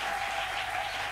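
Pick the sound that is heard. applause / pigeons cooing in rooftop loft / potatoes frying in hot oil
applause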